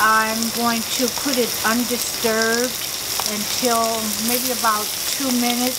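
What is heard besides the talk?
shrimp frying in a skillet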